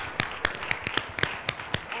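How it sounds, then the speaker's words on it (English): Audience applause at a Biomedical Engineering Society annual meeting session, heard as a short burst of scattered claps with sharp separate hits, moderately loud and close, with no talk over it. "Let's give you a round of applause."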